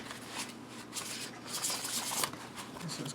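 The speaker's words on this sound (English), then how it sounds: "I seriously could just sit here and shuffle it." Tarot cards from an out-of-print Victorian Romantic deck are shuffled by hand in a steady run of soft papery riffling and patter. The sound is close and fairly quiet, and no one speaks.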